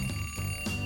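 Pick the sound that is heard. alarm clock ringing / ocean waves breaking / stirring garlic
alarm clock ringing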